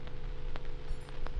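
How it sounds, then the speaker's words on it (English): Cold storm rain falls steadily in a post-apocalyptic audio drama, a soft, close patter of drops hitting a surface, with a few sharper splashes over a low steady hum. "Cold rain crashed against my face."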